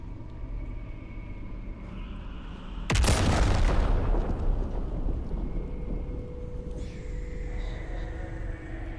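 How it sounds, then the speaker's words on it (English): A single loud explosion in the video game Baldur's Gate 3 bursts in suddenly, then rumbles and decays over several seconds over a steady ambient game backdrop, with no voices. "I'm wondering what that explosion was."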